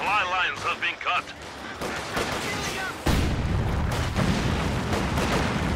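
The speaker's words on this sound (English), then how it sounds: "Stun grenade into the house." Stun grenade blasts in Company of Heroes, a real-time World War II strategy game, thudding into a house amid scattered gunfire. Bursts of combat crackle sit under busy commentary, with a heavier boom about three seconds in.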